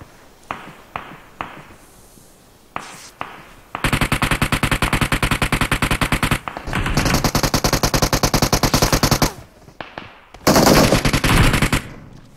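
PUBG Mobile gunfire: a few scattered single shots, then long, loud rapid-fire bursts of automatic weapons, pausing briefly between volleys, with no talking.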